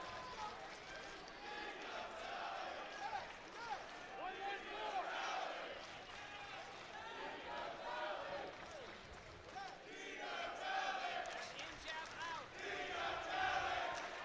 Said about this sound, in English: You can hear the Di Natale supporters trying to implore him loudly here in the crowd